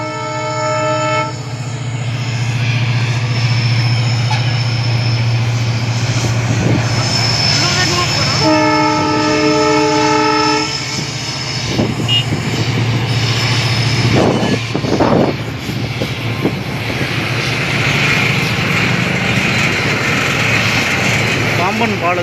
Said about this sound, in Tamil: பாம்பன் பாலத்தின் மேல் ட்ரெயின் சென்று கொண்டிருக்கிறது.